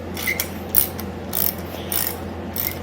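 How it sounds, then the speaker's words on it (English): A ratchet clicks in repeated bursts while backing out the single bolt holding the tachometer on a 1971 Yamaha RT1B 360 motorcycle under restoration, close and fairly loud, with five or six short runs of clicking over a steady low hum. "So first thing we're going to do is remove the bolt here."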